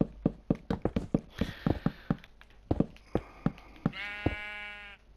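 Sheep in the video game Minecraft bleat twice in clear, close, wavering cries, set among a steady run of sharp tapping and block-placing knocks.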